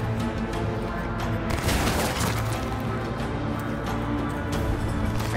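Gunfire in the Cyberpunk video game, heard as a steady dense wash of distant shots and rattling bursts that holds at a constant moderate level throughout, with a slightly heavier impact near the middle.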